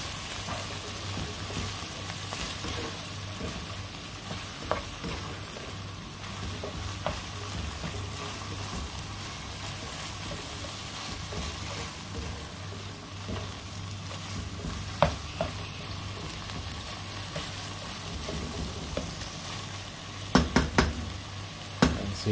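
Sliced hotdog frying in a pan for chao fan, a continuous close sizzle with light stirring and a few sharp utensil clinks near the end, no talking.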